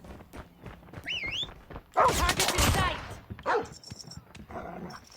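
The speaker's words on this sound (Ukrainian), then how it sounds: "Це пістолет кулемет, який був розроблений на базі МП-38" An HG-40 (MP-40) submachine gun in Call of Duty Mobile lets out a loud, close burst of rapid fire lasting about a second. Sharper single reports and game sound effects follow, and a voice talks over the action.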